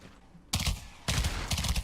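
Two short, loud bursts of rapid automatic gunfire in a dark shooter video game, each about half a second long, breaking a quiet background.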